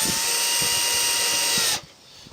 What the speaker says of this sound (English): drill with the drill bit.